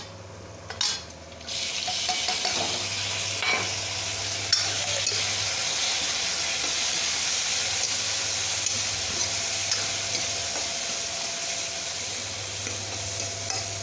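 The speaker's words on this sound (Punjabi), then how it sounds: "ਹੁਣ ਇਹ ਚ ਪਾਉਣ ਲੱਗੇ ਆਪਾਂ ਟਮਾਟਰ" Tomatoes for a potato and brinjal curry drop into a hot frying pan with a brief clatter, then a steady, loud sizzle continues alone, with occasional stirring scrapes over the oily crackle.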